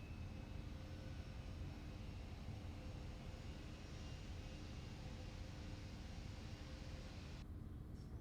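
An Airbus A400M Atlas turboprop at Farnborough International Airshow 2016 gives a continuous, even engine drone, faint and distant, with the higher hiss cutting away just before the end.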